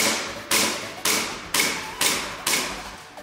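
An airsoft gun fires a rapid burst, with six sharp, evenly spaced shots about half a second apart, each decaying with a short echo, loud and close, with no talking.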